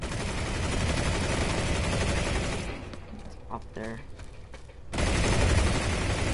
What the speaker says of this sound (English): I forget where this gunfire is